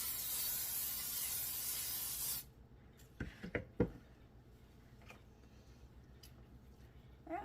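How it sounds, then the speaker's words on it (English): Cooking spray hisses into a bowl in one steady, close burst lasting a couple of seconds, followed by a few soft clicks and knocks of the can in a quiet kitchen while cinnamon roll dough is being made. "spray the bowl."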